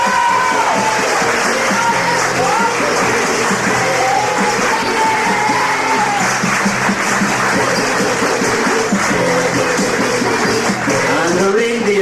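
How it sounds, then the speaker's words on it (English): An audience at a children's Christmas show applauds loudly and steadily for the presents, with crowd noise and a few cheers, the clapping sustained for the whole stretch. "Big round of applause for the presents."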